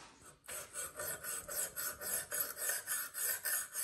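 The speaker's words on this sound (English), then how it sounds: "This is the knife sharpening contraption that I was telling you guys about." A kitchen knife drawn repeatedly through an elaborate sharpening contraption, giving a close, steady series of about a dozen rhythmic rasping strokes with no talk over them.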